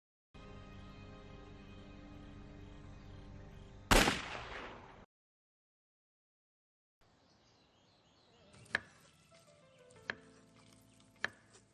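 Gunshots ring out in a scene from the TV series Secret Invasion: a sharp burst, then after a silent gap a quieter passage marked by three separate loud cracks spread over a few seconds, with no talking.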